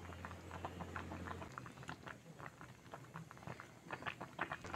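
Milk puli pitha made with semolina simmering in a pot of boiling milk, a steady close bubbling and popping that keeps up throughout with no voices.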